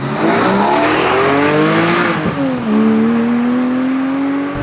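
A Porsche 718 Cayman GTS 4.0 flat-six revs hard, loud and close, its pitch climbing steadily, then dipping briefly as if through a gearshift before pulling strongly again.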